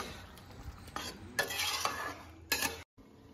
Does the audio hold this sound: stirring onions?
yes